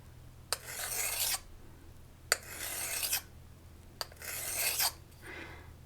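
Three slow, separate rasping strokes of a hand stone drawn along the edge of a figure skate blade, each starting with a small click, close up and alone over a low background hum.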